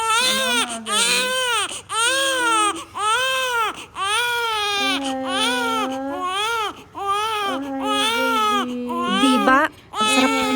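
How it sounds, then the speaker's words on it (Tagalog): Newborn babies cry in a Japanese maternity hospital, repeated close wailing bursts with short gasping pauses, loud and continuous over about ten seconds. "Ang sarap pakinggan ng mga iyak ng mga batang sanggol."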